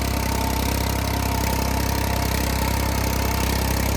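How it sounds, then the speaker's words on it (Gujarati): A tractor engine runs at 1500 RPM with a cultivator attached and no load, a loud, steady, even drone that holds unchanged throughout with no voices. "અને જો ટ્રેક્ટર ઓટોમેટિક ચાલે છે કોઈ લોડ વગર. 1500 RPM પર ચાલે છે આ ટ્રેક્ટર."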